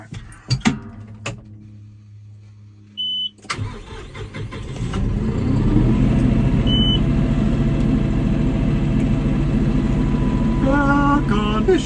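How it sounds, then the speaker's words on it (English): An air-conditioned tractor's engine starts with a few clanks and sputters, then settles into a steady, loud diesel running note that continues alone to the end. "I drive the air-conditioned tractor."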